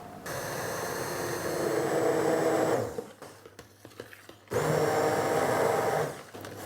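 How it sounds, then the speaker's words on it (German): A blender purées sweet-sour Hokkaido pumpkin in two loud, steady whirring bursts, running about three seconds, pausing for a second or so with faint clatter, then whirring again, all close and without talking. "Und nun geht's ans Pürieren."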